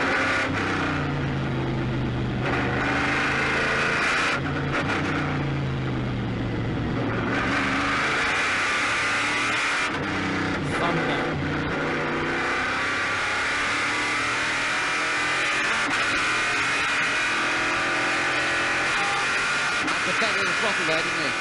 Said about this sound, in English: Let's just listen in to the Corvette for a moment.